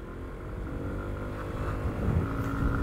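A Lexmoto Aura 125cc scooter engine drones steadily as it climbs a hill on a national speed limit road, its low hum swelling louder toward the end, with no talking.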